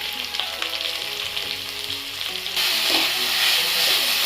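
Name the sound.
frying onion and capsicum for vegetable fried rice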